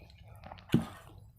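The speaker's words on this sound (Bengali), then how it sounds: "এবার ডালটা ঢেলে নেব।" Dal ladled onto rice during a homemade lunch, a brief soft squishy wet splat in the middle, with a few small liquid sounds before it in a quiet room.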